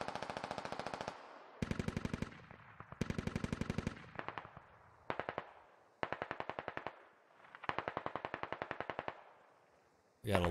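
DShK heavy machine gun firing in the military game Squad, loud close bursts of rapid rounds repeated about nine times with short pauses between them.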